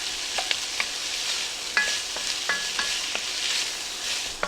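Onions softening in a pan for a vegetarian bean chili give a steady, fairly loud sizzle, with several sharp clinks of a spoon or spatula against the pan as they are stirred.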